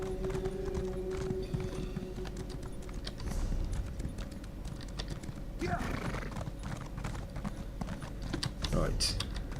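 Horse hooves clip-clop rhythmically while riding in the video game Elder Scrolls Online, with a horse whinnying partway through. A steady game soundscape runs underneath.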